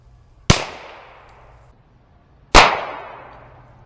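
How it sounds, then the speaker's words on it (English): Ruger Wrangler .22LR revolver firing CCI shot shells, two sharp, loud cracks about two seconds apart, each followed by a short decaying echo. "we're going to be shooting this first shot at 8 feet"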